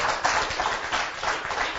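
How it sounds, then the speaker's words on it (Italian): Dense, steady applause from an audience at a cycling event, a continuous wash of many hands clapping with no voices standing out. "Citti, ti chiamo Citti, un applauso"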